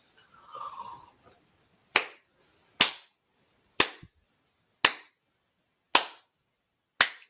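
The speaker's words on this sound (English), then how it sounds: "That's me clapping," A single person claps hands slowly and deliberately, six sharp isolated claps about a second apart, close and crisp, after a brief murmur.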